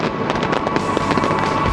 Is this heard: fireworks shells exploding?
yes